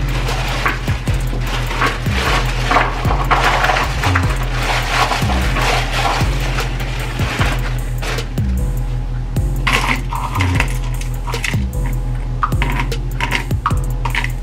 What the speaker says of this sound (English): we're gonna grab some more ice